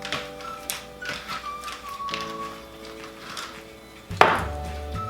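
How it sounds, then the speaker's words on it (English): Chicken seasoning ingredients being mixed in a bowl, with scattered light taps and clinks of a utensil, then a sharper louder scrape and knock near the end, close by. "Mix everything together."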